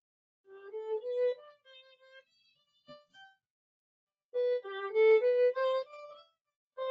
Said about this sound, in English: you can change the timbre of violin, which sounds like this.